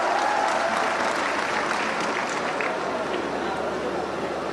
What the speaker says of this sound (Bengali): জোরে একটা হাততালি দিয়ে আমরা তাদেরকে অভিনন্দন জানাই